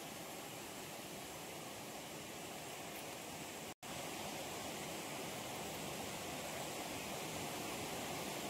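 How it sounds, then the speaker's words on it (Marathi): Running water pours steadily from a tap while taro (alu) leaves are rinsed, a constant broad rushing hiss with one brief drop-out partway through. "अशा प्रकारे ना ही सर्व पानं मी धुवून घेते।"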